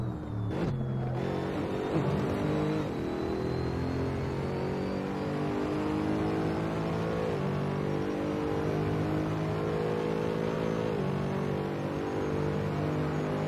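A Mercedes SLS GT3 racing the Monza circuit in Assetto Corsa, its engine droning loud and continuous as it climbs steadily through the revs, with brief dips at gear changes, from an onboard perspective.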